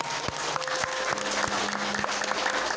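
Applause at a Dayak Tobag customary council gathering and leadership inauguration, a fairly quiet, steady patter of clapping from an audience, with sharper individual claps standing out.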